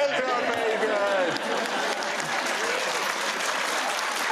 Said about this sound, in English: can I stop that round of applause for 1 second?